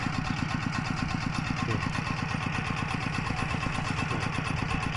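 An i-taek two-wheel farm tractor engine running while being driven, a steady close thumping single-cylinder chug with a fast even beat throughout and no talk.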